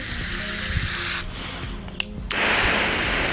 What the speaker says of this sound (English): soaker